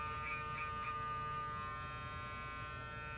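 Electric hair clipper buzzing steadily and close while cutting hair, pressed hard into the scalp and lifted off during a low fade blend, a continuous even whine with no talking.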